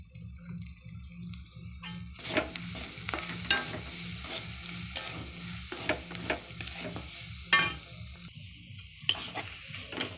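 Curry leaves go into hot oil for masala dosa filling: after a low background hum, a sudden burst of crackling sizzle erupts and continues with spattering pops and occasional pan scrapes, close and fairly loud, with no talk.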